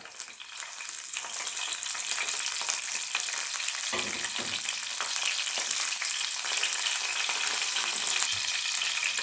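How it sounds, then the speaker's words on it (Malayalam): Chopped ginger, garlic and curry leaves frying in hot oil for a Kerala-style egg curry, a loud continuous sizzle that swells briefly midway, close up with no talk. "ഇതിലേക്ക് നമുക്ക് ഇഞ്ചി വെളുത്തുള്ളി ചെറുതായിട്ട് അരിഞ്ഞത് ഇട്ട് കൊടുത്തു അതിലേക്ക് നമുക്ക് കറിവേപ്പിലയും കൂടെ ഇട്ട് കൊടുക്കുകയാണ്"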